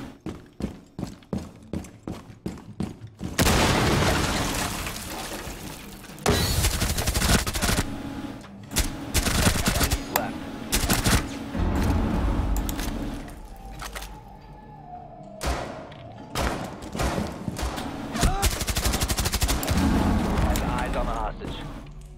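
Rainbow Six Siege gunfire, opening with a rapid string of sharp single shots, then dense bursts of automatic fire and loud blasts in clustered volleys, with players talking over it.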